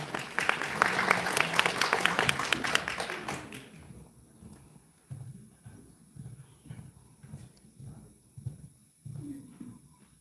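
Applause from an audience at a regional merchants' association briefing, loud and dense for about four seconds, then fading into scattered claps and low room noise.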